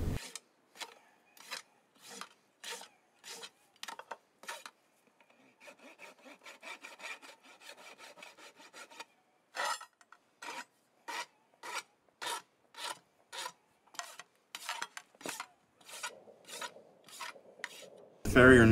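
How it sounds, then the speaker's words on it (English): A farrier rasps the hoof wall of a horse in sharp, regular strokes, each scrape a crisp burst separated by short pauses, with a softer run of quicker rubbing in the middle. "the farrier rasps off a little hoof wall under each of the nails"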